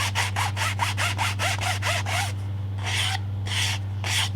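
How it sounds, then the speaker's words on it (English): A hand file rasps along the edge of a small model railroad part in quick, even strokes, about ten in a row, then a few slower, spaced strokes, all close over a steady low electrical hum. "if you file the edge and make it really light, it paints better"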